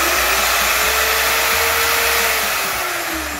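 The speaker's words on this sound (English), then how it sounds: "Router spindle, 850 watts." An 850-watt router spindle motor powered directly by solar panels, with no inverter or batteries, hums steadily at high speed, a loud even whine that dips slightly in pitch and eases off toward the end.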